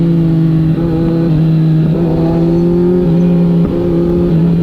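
A Kawasaki Z900 motorcycle accelerates on a winding new village road in Mae Chaem, its engine droning loud and close with steady harmonic tones that climb slightly through gear and throttle changes.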